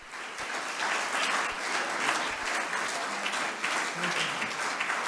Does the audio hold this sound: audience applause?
yes